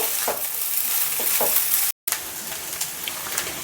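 Pasta gently frying and being stirred in a pan, a steady close sizzle with soft scraping strokes, interrupted by a brief moment of silence midway, and no talking.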